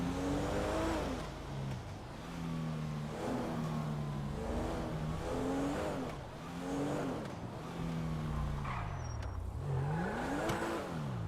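A Porsche engine revs and accelerates repeatedly, rising and falling in pitch through several gear-like sweeps, loud and close with steady road noise underneath, no voices.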